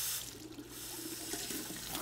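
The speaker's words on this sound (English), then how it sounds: "So I would turn on the water," Water runs steadily from a sink tap during hand washing, a close, continuous hiss and splash with no voices over it.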